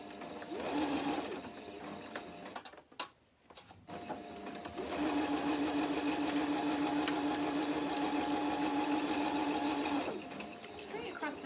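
A sewing machine stitches tote bag handles in two runs, a short burst and then a longer steady whir with a rhythmic needle hum, close by, with a brief pause between and a voice talking over part of it.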